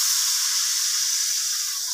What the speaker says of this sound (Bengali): এবার আমি জলটা অ্যাড করে দিচ্ছি